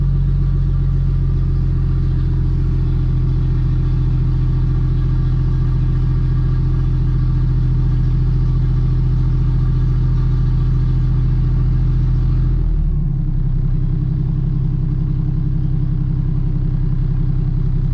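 A Toyota Aristo fitted with a single turbo idles steadily up close, a loud continuous low rumble that shifts tone slightly near the end, with no talk over it.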